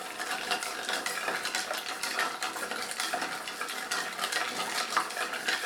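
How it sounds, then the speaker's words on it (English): An Old Fashioned cocktail being stirred with ice in a shaker: a steady, continuous clinking and swirling rattle of ice against the glass, close and even throughout, with no talking. "So now we're going to stir. I'm going to stir this for about"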